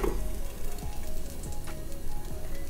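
Vrat tikki patties frying slowly on a low gas flame, giving a steady, soft close sizzle with faint crackles and no voices.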